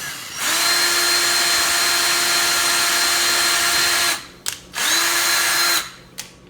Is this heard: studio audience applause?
no